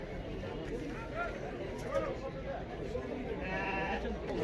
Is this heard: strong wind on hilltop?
no